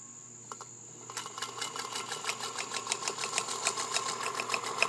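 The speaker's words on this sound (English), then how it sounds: "you can hear that little tick-tock is actually the spool that you hear turning there" A Singer Featherweight 221 sewing machine stitches light-to-medium linen with a new size 16 needle. A steady mechanical hum starts after about a second, with a quick, even tick-tock from the turning spool running close and alone.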